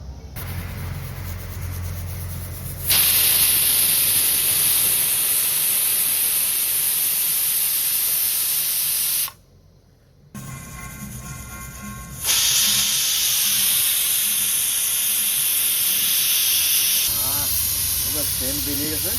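A pressure cooker on the stove, cooking mutton paya soup, lets out its last whistle as a loud, sustained hiss of escaping steam that pauses briefly and then resumes, over a low rumble.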